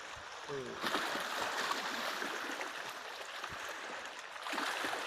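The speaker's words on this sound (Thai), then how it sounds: "ลมแรงแล้วก็คลื่นแรง" Strong wind buffets the microphone as waves wash and splash on a lake shore, a continuous loud rushing texture with brief spoken voice early on.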